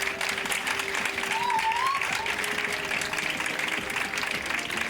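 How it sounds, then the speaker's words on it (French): A live audience applauds to cast a vote at a comedy show about Marseille's municipal elections, a steady wash of clapping at moderate distance, fairly faint, with a brief whistle-like tone riding above it. "d'applaudir, s'il vous plaît."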